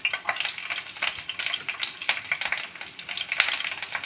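Chillies and curry leaves sizzling in hot oil, a busy crackle of spits and pops rising and falling steadily, close and fairly quiet, with no voices.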